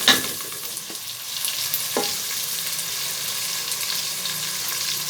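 Finely chopped tomatoes are mixed and cooked in a pot, giving a loud, constant sizzling hiss with a couple of light spoon taps.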